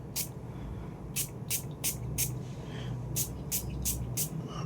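Several short hissing bursts of perfume, a Fox Sniff extrait de parfum, sprayed onto clothing, falling in two quick clusters of three or four sprays each over a low steady background hum.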